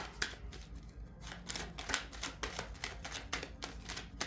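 Tarot cards are shuffled repeatedly, a series of crisp riffling bursts in an uneven rhythm, close and fairly quiet.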